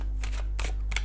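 Tarot cards are shuffled in a few quick riffling bursts, close and crisp, over a steady low hum.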